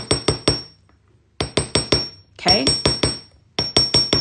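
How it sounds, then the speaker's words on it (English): A hammer strikes a metal wire charm holder in quick bursts of three to five sharp metallic taps, separated by short pauses, close and loud, with a brief word spoken between strikes. "And I'm going to hammer it all the way around."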